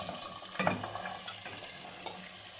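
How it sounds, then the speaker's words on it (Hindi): Okra fries in a small amount of oil while being stirred in a pan, giving a steady close sizzle with a few soft scraping clicks from the stirring. "भिंडी को आपने थोड़ा थोड़ा सा चलाना है ताकि ये नीचे ना लगे।"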